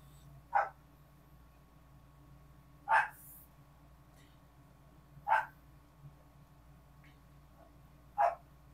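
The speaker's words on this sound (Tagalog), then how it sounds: "So, pagpasensyahan nyo na yung tahol ng aming aso kasi marami kaming pets." Pet dog barking in a home, four short sharp barks spaced a few seconds apart, moderately near, over a low steady background hum.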